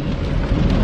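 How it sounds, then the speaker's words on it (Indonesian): Rain falls steadily during Ramadan, a dense, even wash of broadband patter with a low rumble beneath, close and fairly loud, with no voices over it. "Hujan hari ni."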